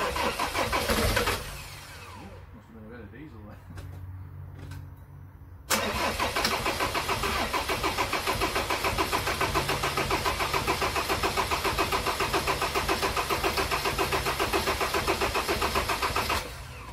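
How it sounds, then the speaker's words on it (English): A rebuilt Land Rover Defender Puma 2.4 TDCi diesel cranks over, then fires up and settles into a loud, steady close-up idle with a dense, even rhythm that holds to the end. "I'm just going to turn the engine over now for the first time,"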